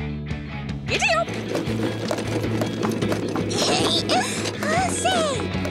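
Cartoon horse hooves trot in a quick clip-clop rhythm, loud and close, mixed with squeaky swooping effects and light mechanical rattles.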